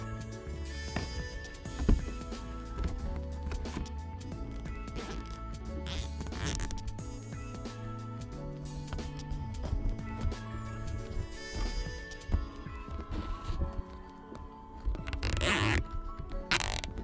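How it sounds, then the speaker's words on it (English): Zip ties being pulled tight to join a clear plastic panel and a ramp, a long run of close, rapid ratcheting zips with a few short pauses and handling noises. "and then zip tie them together"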